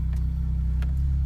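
A Lotus Elise with a mid-mounted engine and manual transmission sets off, its low steady engine drone holding close and even over a short stretch with no talk.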